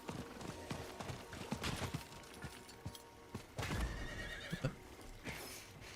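A horse in the Diablo 4 video game whinnies and clip-clops at a gallop, hoofbeats thudding irregularly with a few heavier impacts and bursts, fairly quiet overall.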